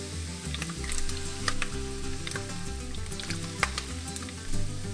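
Bacon and sausages frying in hot oil, a steady close sizzle with crackles and pops as they are stirred, and no voices.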